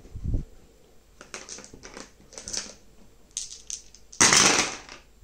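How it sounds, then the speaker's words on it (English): Dice for the D-Day Dice board game clatter across a table nearby in several short, rattling bursts, each roll a quick scatter of plastic clicks, ending with one louder, sharper tumble. "so time for me to roll my dice."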